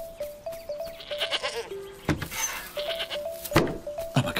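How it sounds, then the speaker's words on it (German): A sheep bleats in short, wavering calls, separated by a few sharp knocks and clatters. "Das Schaf macht laut Mäh."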